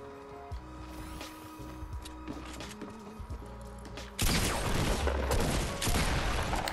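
Fortnite firefight with pump shotgun and assault rifle fire: scattered clicks and thuds give way to a sudden burst of loud, rapid gunshots and crackling impacts that continue to the end.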